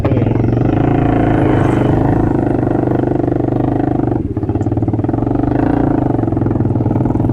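A custom Honda CBR150 neo scrambler motorcycle runs close by with a steady, loud engine drone and a rhythmic rattling pulse, dipping briefly partway through before resuming at the same even pitch.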